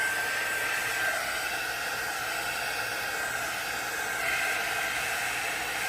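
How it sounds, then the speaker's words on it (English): Heat gun blowing steadily on alcohol ink during resin crafting, a loud continuous whooshing hiss that stays even throughout with no talking. "I wonder if the heat gun will blow it more, but I don't want it to dry it."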